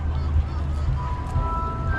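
A song's intro played in reverse and slowed 2.8 times, heard as a dense, murky low drone with smeared, warbling tones and a faint high whine running steadily for two seconds.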